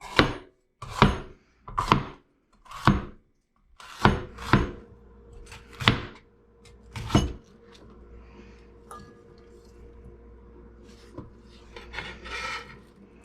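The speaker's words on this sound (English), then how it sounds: "So I'm going to chop this up." Green pepper being chopped with a knife on a cutting board for chili: about eight crisp, evenly spaced chops ring out close and loud, then give way to quieter scraping and rustling of the cut pieces.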